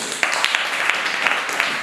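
Children in a classroom clap together, a brisk run of sharp, rhythmic hand claps in rough unison, close and fairly loud, with a few stronger accented beats.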